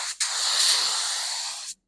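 Spray gun hissing a steady burst of paint onto fiberglass Talladega truck fenders outdoors, one close, continuous spray lasting about a second and a half before cutting off.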